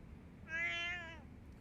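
A cat in the video game Judgment lets out a single drawn-out meow, clear and moderately loud, rising and fading over about half a second against quiet background noise.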